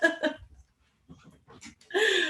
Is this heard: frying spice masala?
no